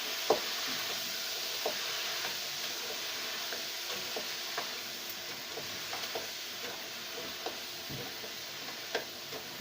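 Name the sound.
potatoes frying in a pan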